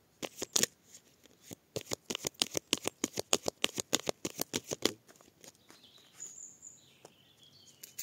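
Tarot cards being shuffled by hand up close: a quick run of sharp, rhythmic riffling slaps that stops after about five seconds, leaving faint bird chirps in the background.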